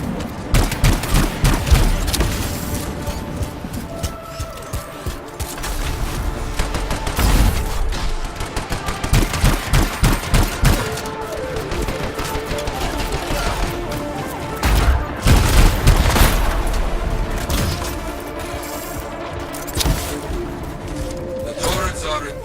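Sustained gunfire from a video game shootout in Anthem as outlaw turrets are shot apart, with dense bursts, booms and crashing debris over 22 seconds, voices talking in between.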